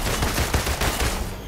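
Rapid bursts of gunfire from the Marvel's Avengers video game, loud and dense, with sharp repeated shots crowding a brief moment.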